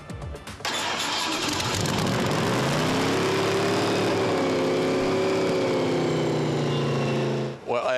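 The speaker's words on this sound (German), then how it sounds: "Der Pickup des Neuseeländers Gordon Tronson dürfte mit seinen 4000 PS zu den kraftvollsten Autos der Messe gehören" A 4000 hp pickup truck with four engines mounted on its bed cranks and fires up at the Essen Motor Show 2016, settling into a loud, steady, throbbing idle that fills the space.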